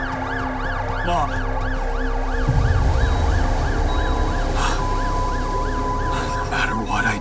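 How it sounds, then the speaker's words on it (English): Wailing ambulance siren from the video game The Alters, rising and falling steadily throughout, loud and close, with a deeper rumble and clatter joining partway through. "Ambulance."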